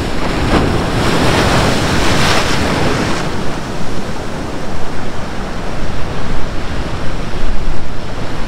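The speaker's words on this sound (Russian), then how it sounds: "Ловите брызги Черного моря себе в экран." Loud Black Sea waves at Foros, Crimea, crash and splash close by, a broad roaring wash of surf with wind buffeting the microphone throughout.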